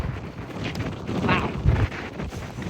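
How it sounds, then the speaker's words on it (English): Strong, chilly wind gusts across a hiking trail on the Continental Divide Trail, buffeting the microphone with a steady low roar that swells midway; a person briefly exclaims over it. "It's really windy."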